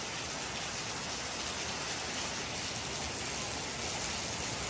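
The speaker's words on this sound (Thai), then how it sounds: "ฝนตกแล้วได้อยู่บ้านนะที่นี่นครพนมฝนดีมากเลยเย็นสบายชุ่มฉ่ำ" Steady rain pours down at a home in Nakhon Phanom, Thailand, a dense, even hiss of drops on surfaces continuing without pause and with no voices.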